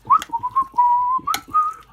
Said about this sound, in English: You can't just say stir. You could, but it's much easier to whistle